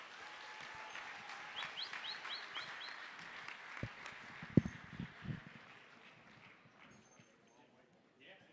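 Audience applause at an international auctioneer championship, a dense moderately distant clapping that swells, peaks midway and fades toward the end.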